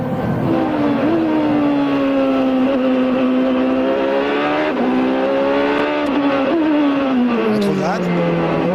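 A 2006 Champ Car race car, recorded onboard on the Long Beach street circuit, accelerates with a loud, continuous high-revving engine note that climbs and dips with brief breaks at gear changes.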